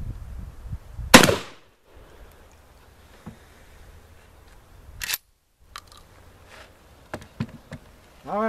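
A 12 gauge IAC Hawk 981R shotgun fires Federal Classic number 4 buck 27-pellet tactical loads at an outdoor 25-yard range. Two sharp, loud reports are spaced several seconds apart, with faint handling noises between them.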